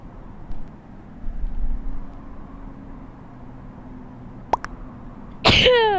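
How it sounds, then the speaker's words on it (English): A single loud close human sneeze bursting abruptly near the end after a faint sharp intake, preceded by quiet background hum and low rumble. "I had to sneeze."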